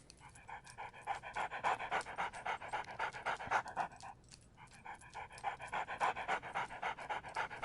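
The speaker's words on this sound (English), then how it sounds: "Bubba, good dog." A dog in the PSVR video game Good Dog, Bad Dog pants in quick, steady rhythmic breaths, close and clear, with one brief pause midway and no talking.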